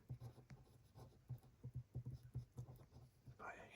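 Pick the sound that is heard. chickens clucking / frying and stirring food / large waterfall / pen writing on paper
pen writing on paper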